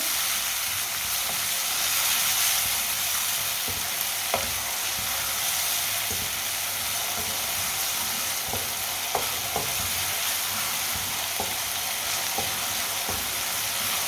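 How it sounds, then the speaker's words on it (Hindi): Finely chopped tomato cooking in a pan, giving a steady close sizzle with scattered clicks and stirring scrapes throughout, no voices. "एक बारीक कटा हुआ टमाटर, सब चीज़ों को 2 मिनट के लिए पका लेंगे।"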